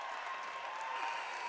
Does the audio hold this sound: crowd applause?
yes